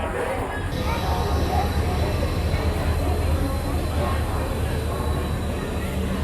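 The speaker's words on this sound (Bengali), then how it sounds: "ওই যে ট্রেন আসছে দেখো।" The Howrah Puri Express rolls into a station platform with a steady low rumble and clatter of wagons, a continuous moderate roar with a faint tone above it.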